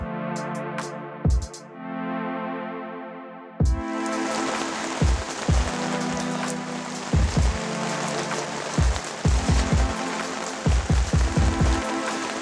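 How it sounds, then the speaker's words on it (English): Steady rain pouring down with scattered louder drops and splashes, a dense continuous hiss that thickens partway through. "Fortunately, the heavy rains returned,"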